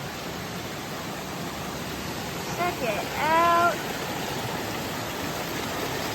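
Commerce Creek Falls, a waterfall on a rainy Appalachian Trail stretch in southern Virginia, pours as a steady, even rush of water while a person speaks briefly over it.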